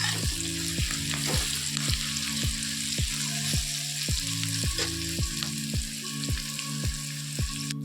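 Chicken pieces frying in a pan with turmeric, chili powder and salt, giving a steady, close sizzle broken by evenly spaced stirring clicks throughout.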